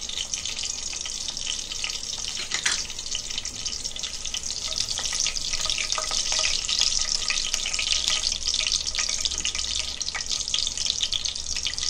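Garam masala and cumin seeds frying in two spoons of hot oil for an egg paneer gravy, giving a steady, close, continuous sizzle and crackle with no talking.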